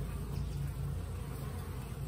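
Dense buzzing of honeybees swarming in and out at the entrance of a newly installed package bee hive, a steady close-up drone that holds without breaks.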